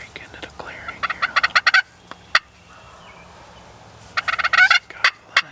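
A wild turkey gobbles in spring woods at the edge of a plowed field, two loud rattling bursts of gobbling separated by a quiet pause, with a single sharp call between them.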